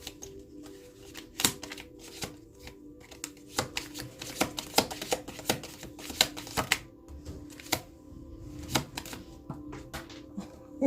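A deck of oracle cards is shuffled by hand at close range, giving a steady run of soft riffling and flicking patters that goes on without pause.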